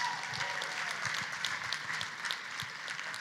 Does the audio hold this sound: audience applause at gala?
yes